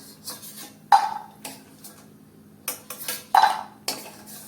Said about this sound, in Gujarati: બદામ અને કાજુ સંતળાઈ ગયા છે હવે આપણે કાઢી લઈએ